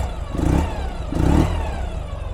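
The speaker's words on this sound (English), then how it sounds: "Give it just a couple little revs for you." The flat-twin engine of a 2013 Ural Gear Up sidecar motorcycle idles close by and is blipped twice, each short rev rising then settling back to a rough idle.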